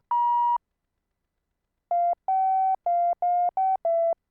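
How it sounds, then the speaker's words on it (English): A synthesizer filter in self-oscillation on a MiniMoog-style emulation gives pure sine-like tones: one held note, a pause, then a run of five or six short, evenly spaced notes at a slightly lower pitch, clean and loud with no other sound. "It's called self-oscillation, and it's kind of a way to get somewhat of a sine wave."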